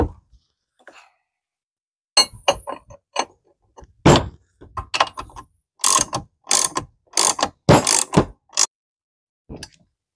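A ratchet tightens a nut on the pedal assembly of a 1966 Mustang during clutch pedal and cable installation: close, crisp bursts of rapid clicking in irregular strokes with short pauses between them.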